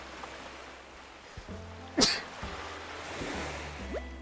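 A single sharp human sneeze bursts out near the microphone amid quiet game music, a brief loud burst standing alone with no talk.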